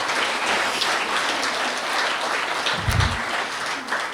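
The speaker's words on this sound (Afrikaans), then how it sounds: "So kom ons gee hom net 'n hartlike applous asseblief." An audience at an outdoor De Wetsdrift Geloftefees gathering on 16 December breaks into steady, hearty applause: dense, even clapping filling the whole stretch with a brief swell near the end, no speech over it.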